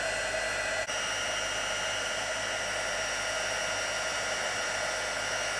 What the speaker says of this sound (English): I'm also going to heat this one up while I've got the heat tool nice and warm.